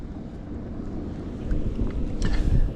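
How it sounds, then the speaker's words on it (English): Strong wind buffeting the microphone on a winter day by the water, a low rumbling roar that grows gustier and louder toward the end, with no voices. "We're on a windy day today"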